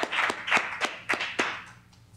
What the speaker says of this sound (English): Let's give Brother Walter Jordan a great round of applause there.